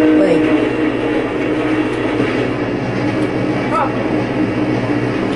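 A train rumbles steadily in the MX vs ATV game, a loud continuous rolling roar with faint clatter that never lets up across the whole stretch.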